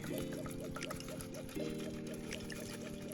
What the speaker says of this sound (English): we're gonna go ahead and strain out this martini